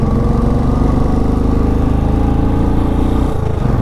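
A motorcycle engine labours steadily in first gear up a very steep mountain road near Sela Pass, a loud, continuous mid-pitched drone that holds throughout and dips briefly near the end.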